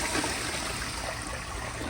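A 1974 Crane Santon toilet flushes in a steady, continuous rush of water that holds at an even level throughout, fairly close and with no talking.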